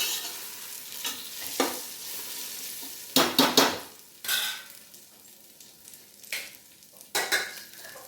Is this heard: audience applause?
no